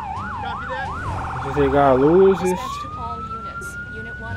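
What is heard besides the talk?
fire truck siren in a firefighting video game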